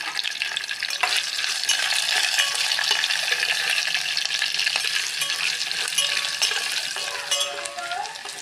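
Steady, loud sizzling of curry leaves and dried red chilies frying in hot oil, a continuous crackling hiss with a few faint clinks, no voices.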